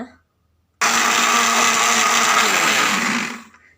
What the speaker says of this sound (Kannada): ಈಗ ಇದನ್ನು ಸ್ವಲ್ಪ ಮಿಕ್ಸಿ ಮಾಡ್ಕೋಬೇಕು